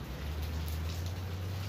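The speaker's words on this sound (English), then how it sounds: "raining." Rain falls steadily as an even, dense hiss with no break, close and moderately loud, over a low constant hum.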